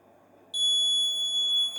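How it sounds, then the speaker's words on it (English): After a brief quiet, a piercing high-pitched electronic alarm tone from a Raspberry Pi Pico alcohol detector with an MQ-3 sensor starts and holds steadily, loud and continuous. "Alcohol detected. Engine off, alarm on."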